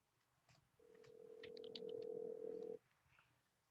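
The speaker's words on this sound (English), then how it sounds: "Our phone has been ringing off the hook this morning." A telephone in an office sounds a single steady electronic tone of about two seconds, fairly faint, with light clicks and background noise around it.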